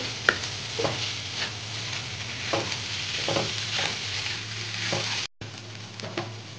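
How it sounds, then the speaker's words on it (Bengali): A spoon scrapes and turns a mashed singara-style filling mixture in a hot pan, with repeated stirring strokes roughly every second over a low, steady sizzle, broken by one brief silent gap. "এবার সব একসাথে ভালো করে নাড়াচাড়া করে নেবো।"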